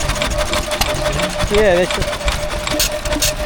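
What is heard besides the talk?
hit and miss stationary engine running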